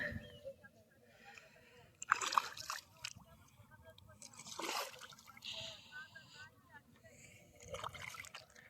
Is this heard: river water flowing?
yes